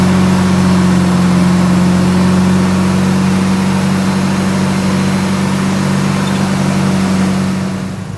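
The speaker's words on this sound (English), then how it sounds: "rev the vehicle to 2500 RPM" A car engine held at 2500 RPM during an alternator voltage drop test gives a loud, steady drone with an unchanging pitch, easing slightly at the very end.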